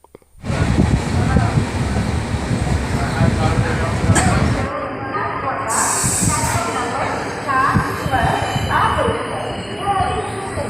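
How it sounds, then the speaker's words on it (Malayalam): Continuous rumbling and hissing of a train moving through Tenali railway station in Andhra Pradesh, with a sharp hiss burst partway through and people talking over it. "തെന്നാലിയിലൂടെയാണ് ഇപ്പോൾ ട്രെയിൻ പോകുന്നത്"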